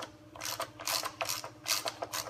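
A ratchet wrench loosens the transmission drain plug on a Ford 6F35 six-speed gearbox in close-up, sharp rapid clicking strokes repeated in several short bursts.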